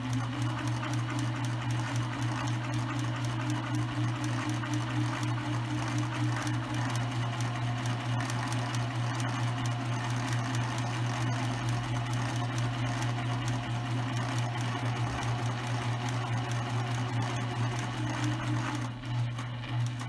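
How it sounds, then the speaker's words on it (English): A sewing machine stitches two layers of fabric together for a tote bag, a steady, fast mechanical whir with a constant hum running nonstop, close and even, with no voices. "I'm going to back stitch to secure both of the fabrics together, and I'm going to continue to sew."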